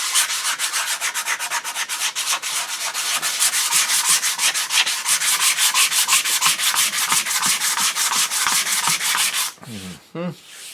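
Sandpaper of 80 grit rubs over the wooden stock of an HW30 air rifle in quick, even back-and-forth strokes. The scratchy rasp is steady and close, then changes near the end as the sanding stops and something is handled.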